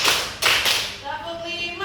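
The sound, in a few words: hand clap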